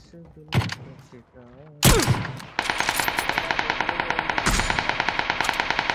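Rapid, evenly spaced automatic gunfire in PUBG rattles loud and close as shots hit the ground, following a burst of overlapping voices and game sounds.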